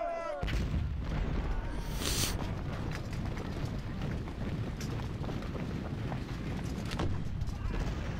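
Artillery and musket fire crackle and boom without a break across a Civil War battlefield in Ultimate General: Civil War, with dense overlapping reports. Someone talks briefly over the gunfire.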